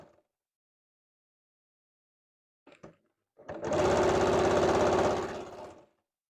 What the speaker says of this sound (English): After I sew the pocket, then we sew it shut and it's all done.